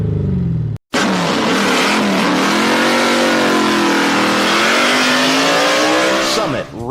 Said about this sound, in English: you can have race car loud with the flip of a switch or a push of a button. Give your ride that gasser sound it deserves.